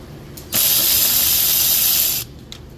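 An Alloyman 16.8V cordless ratchet backs out battery studs with a single loud, steady motor whir lasting under two seconds, starting and stopping abruptly against a quiet background.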